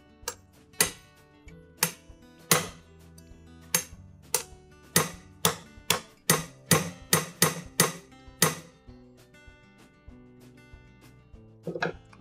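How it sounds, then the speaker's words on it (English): A metal ball peen hammer taps a punch to drive a pin out of a KitchenAid mixer, about a dozen sharp ringing strikes in an uneven rhythm, close and fairly loud, with a couple more near the end. "and our ball peen hammer, we're going to tap that pin out."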